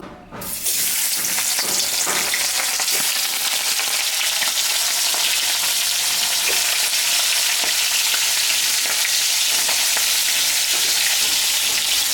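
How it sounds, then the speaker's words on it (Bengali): Pomfret fish fries in hot mustard oil with salt and turmeric, giving a steady loud sizzle with occasional crackles and pops that carries on without pause and with no talk. "এটা গরম হয়ে গেছে আমি সর্ষের তেল দিয়ে দিলাম মাছে লবণ দিলাম হলুদ দিয়ে দিলাম"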